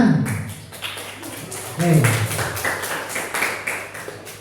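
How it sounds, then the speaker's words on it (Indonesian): Classroom applause as students clap together, a light patter of many hands running under a teacher's voice, building briefly and then continuing at a steady moderate level. "Oke, ya, tepuk tangan."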